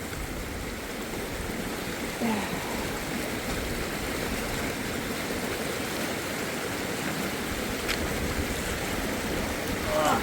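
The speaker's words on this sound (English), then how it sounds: "The water's going so fast" Fast-flowing stream water on the Pacific Crest Trail rushes in a loud, steady, broadband roar, constant and close throughout, with no voices over it.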